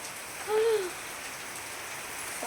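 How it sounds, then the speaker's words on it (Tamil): Steady rain falls in an outdoor village setting, a continuous even hiss with a brief tonal call rising above it early on. "செம்மையாக மழை பெய்யுது"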